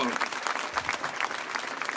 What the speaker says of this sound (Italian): Voglio sentire un grande applauso per Beatrice Bio